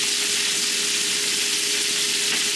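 Beef short ribs sear in a hot pan, giving a steady, loud, even sizzle throughout with no talking.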